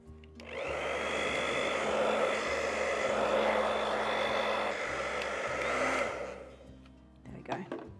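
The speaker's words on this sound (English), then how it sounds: "I might give it a bit of a blast with the hairdryer." A hair dryer blows steadily at close range for about six seconds over a gel plate print, a broad whooshing roar with a faint whine, then cuts off, leaving a few small knocks.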